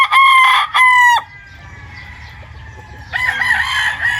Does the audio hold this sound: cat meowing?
no